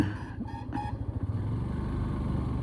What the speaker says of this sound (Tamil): வண்டி வருது பாருங்க கைஸ்